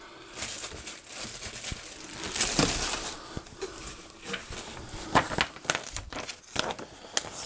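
Papers crinkle and rustle as they are handled and packed into a box alongside a Medion Akoya S14407 laptop's accessories, with irregular close crumpling bursts and no talk.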